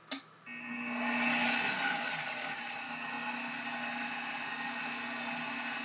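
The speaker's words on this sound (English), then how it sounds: "Now speed number 1 on the Cuisinart mixer is a little bit slower than the one on the KitchenAid." A Cuisinart stand mixer on speed 1 working pizza dough with a dough hook starts with a click, then settles into a steady motor whir with a faint rhythmic churning, moderately near and continuous, with no one talking.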